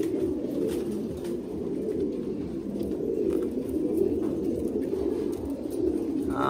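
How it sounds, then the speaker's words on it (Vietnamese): Thai Titan meat pigeons coo in a breeding loft, with low, rolling cooing from many birds overlapping continuously at a steady level. "anh em đang bắt dần những cái cặp chim bồ câu đẹp nhất để giao cho khách"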